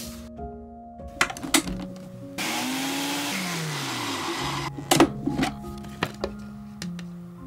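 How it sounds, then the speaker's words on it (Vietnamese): A blender grinding cooked beans for a sweet dumpling filling runs in a loud whirring burst, its motor pitch sliding down as it stops, framed by clicks, taps and clatter from handling the jar. "Cho vào cối, xay nát hoặc là xay sơ, tùy theo các bạn thích ăn như thế nào nha."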